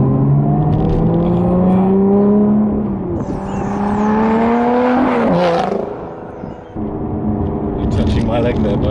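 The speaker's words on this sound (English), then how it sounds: "That pulls you back. That acceleration." A Lotus Evora 400 engine accelerating from inside the cabin, a loud rising drone that climbs through the gears with a brief dip at a shift, steady and close.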